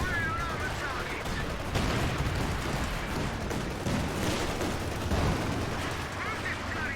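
Tanks fire in a war film: dense, rumbling bursts of gunfire and heavy blasts roll continuously, with voices shouting beneath the din.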